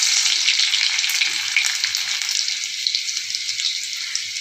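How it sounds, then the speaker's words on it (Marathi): Cumin seeds and garlic dropped into hot oil, a loud, close, bright sizzle that crackles densely at first and settles into a steady frying hiss. "आपण जिरे टाकूया थोडेसे, आपण लसूण टाकूया"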